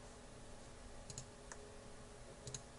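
A password being typed on a computer keyboard, a few faint, scattered key clicks close to the mic over a low background hum, with no voices.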